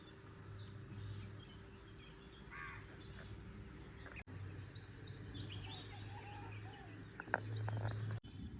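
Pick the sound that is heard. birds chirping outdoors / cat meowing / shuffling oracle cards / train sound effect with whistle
birds chirping outdoors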